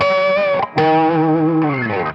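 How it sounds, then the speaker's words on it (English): Electric guitar lead drenched in reverb and delay with a distorted, chorus-like shimmer, two sustained phrases separated by a brief gap, loud and alone. "Right at the bottom you get reverb and delay added in post."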